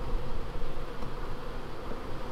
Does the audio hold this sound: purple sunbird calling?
no